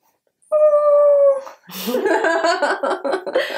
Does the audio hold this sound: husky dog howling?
yes